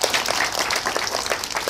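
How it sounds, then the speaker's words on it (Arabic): A theatre audience applauds Bobby on a children's programme, a dense, steady burst of clapping that stays loud and even throughout with no talking over it. "تصفيق على بوبي، تصفيق على بوبي"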